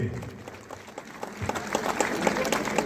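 A crowd applauds warmly at a community event, dense clapping that starts light and builds to a steady, fuller round over a few seconds.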